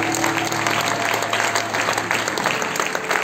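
A church congregation applauds during a memorial service, making dense, loud, continuous clapping throughout with faint crowd voices mixed in.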